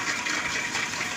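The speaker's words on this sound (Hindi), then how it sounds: "आई थिंक पानी गिर रहा है।" Water pours from the outlet of a running motor pump, a steady close gush that does not let up.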